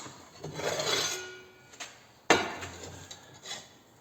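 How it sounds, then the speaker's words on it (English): Scrap piece of Studebaker body trim worked with a grinder, giving two rough rasping bursts, the second starting with a sharp hit, close and fairly loud with short pauses between. "Just grinds nicely."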